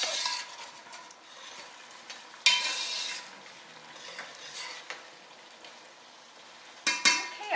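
A tomato mixture for crab cioppino simmers in a pot while a utensil stirs and scrapes it, with soft bubbling between a few louder clanks near the start and end.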